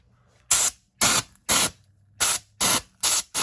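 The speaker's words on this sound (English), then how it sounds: "put some canned air and blow it out." Canned air is sprayed in six short, sharp hissing bursts into a heat detector during a fire alarm system test, evenly spaced about half a second apart with quiet gaps between.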